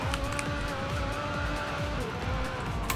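A McLaren 570S engine revs hard while accelerating in a racing video game, a continuous, rising motor whine with layered harmonics and no talk over it.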